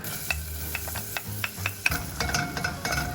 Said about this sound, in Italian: è ben caldo, andiamo ad aggiungere il nostro scalogno